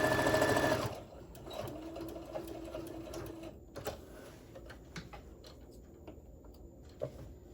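A Singer Modern Quilter sewing machine stitches a tote bag seam: a loud burst of rapid mechanical whirring and clatter that cuts off after a second, followed by quieter scattered clicks and handling taps.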